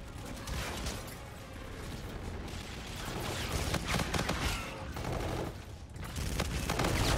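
LMG machine gun fire in the game Infinite Warfare, with sustained bursts of rapid automatic shots and mechanical rattling running through the whole stretch.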